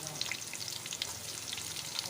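Onion fries in hot ghee, a soft, even sizzle with light popping crackles, close but fairly quiet.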